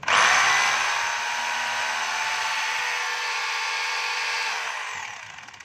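A DeWalt D25032 rotary hammer running in hammer mode, a steady loud buzzing whine held for about five seconds before it winds down, close up and with no voices.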